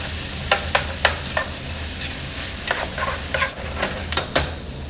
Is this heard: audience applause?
no